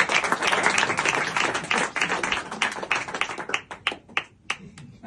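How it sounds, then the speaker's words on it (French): A comedy club audience claps in dense applause that gradually thins out to a few scattered, individual claps by the end. "je propose d'applaudir Romain"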